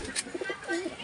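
Pigeons cooing inside the compartments of their coop, a few short soft coos in quick succession with a brief bright chirp, close by.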